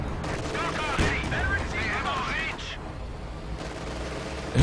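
Battlefield gunfire in Company of Heroes 2 during a 2v2 match, sustained bursts of machine-gun and rifle fire with a loud crack at the end, under a commentator talking excitedly.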